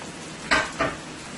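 Sweet peppers go into a pot of fried potatoes with two quick sizzling bursts about a quarter second apart, loud and close against a steady low background hiss.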